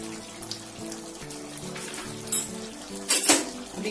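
Spoon stirring chutney potatoes in a cooking pan, soft scraping over a low sizzle, with two brief louder metallic clanks of utensil on pan near the end, close up and without speech.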